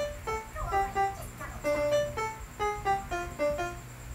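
A melody played on a piano, a quick run of bright repeated notes in its familiar driving rhythm, close and clear with no talking over it.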